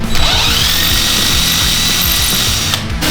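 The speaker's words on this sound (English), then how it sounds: "the hole's not big enough, so we just gotta keep drilling it out, keep putting the bolt in" A power drill bores out bolt holes in a turbo exhaust manifold flange for a Honda Civic, running in short repeated bursts with a steady whine and grinding bite, loud and close.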